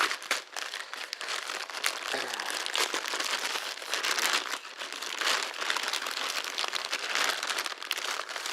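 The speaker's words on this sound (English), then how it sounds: "Gonna have to rip it open this way." A package is ripped open, with continuous close crinkling and tearing of wrapping material that runs steadily for several seconds, no voices over it.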